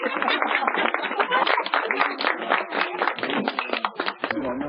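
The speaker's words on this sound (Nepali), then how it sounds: "ताली बजाइदेऊ।" People gathered for a Christmas fellowship in a home clap briefly and loudly together in a dense burst of hand claps.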